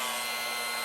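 Steady whirring drone of a hair clipper with built-in suction cutting a man's hair, a constant airy hiss with a faint motor hum, close and unbroken.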